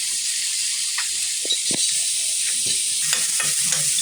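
Tomato and ginger frying in a pan, a steady loud sizzle broken by scraping stirs and clinks from the utensil.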